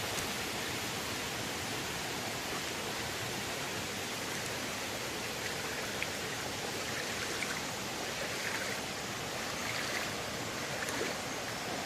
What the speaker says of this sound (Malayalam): മുകളിൽ നിന്ന് ഉറവ വെള്ളം വന്ന് ചാടുന്നതാണ്